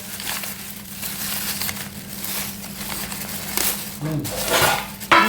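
Plates and utensils clattering and knocking as a plate is pulled out in a home kitchen, scattered clinks and crinkly rustles at close range, sharper knocks near the end.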